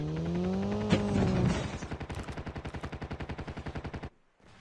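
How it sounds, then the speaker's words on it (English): Rapid automatic gunfire with thermite rounds in COD Mobile: a steady, even burst of close, loud shots lasting several seconds that stops abruptly, with earlier shots and game noise before it. "I'm going to shoot at the ground"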